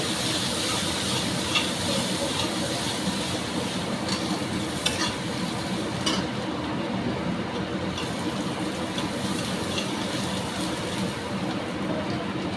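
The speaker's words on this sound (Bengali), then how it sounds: "পেঁয়াজটা ভাজা হতে হতে" Onions fry in a pan for a pomfret fish curry, producing a continuous loud sizzle with the scrape and rustle of stirring, close and steady, with no talk.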